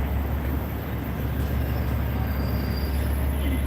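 An inspection train rumbles steadily through a subway station on the Uptown 6 line, a loud continuous low roar of rail cars with faint wheel squeal, no talking.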